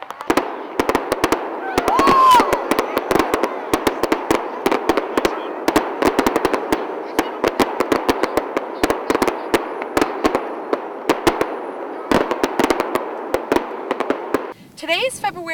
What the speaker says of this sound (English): the community celebrated with fireworks, a perfect ending to a true Miramichi tradition